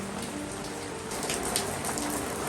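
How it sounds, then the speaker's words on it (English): Steady rain patters on a tent and wet sand at a beach sandcastle site, a dense, even hiss of drops close by that continues throughout with no voices. "it is still raining"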